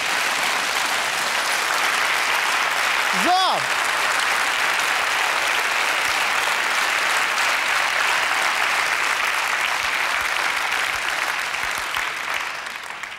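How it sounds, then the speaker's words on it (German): A studio audience at a German TV show breaks into sustained, even applause that fills the room, with one short spoken word and a brief rising whistle-like tone early on, tapering slightly at the end. "dann Applaus nochmal für die junge Frau"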